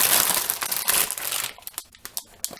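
A big plastic bag of stickers from a model kit is handled, giving a dense crinkle that becomes sharp, separate crackles near the end.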